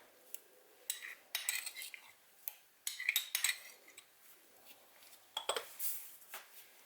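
A spoon mixing mayonnaise, mustard and seafood sauce in a bowl, giving quiet, irregular clinks and scrapes of metal on the bowl in short bursts, with no talk.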